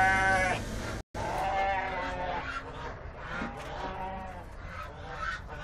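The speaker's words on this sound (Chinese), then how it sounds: "大大鹅都开始往这儿跑了，连鹅都开始往这儿走了" Farm geese honking as they come running over, with repeated nasal calls close by, mixed with bleating sheep and other livestock noise, briefly cut by a short silence.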